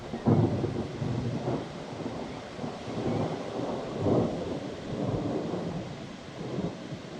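Thunder rumbles low and continuously through a storm in Isère, with steady rain and gusting wind underneath, and the rolling swells rise and fall without a sharp crack.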